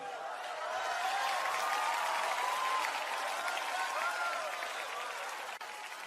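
A church congregation applauding, a broad, steady wash of many hands clapping that holds for several seconds at a moderate distance, with faint voices mixed in.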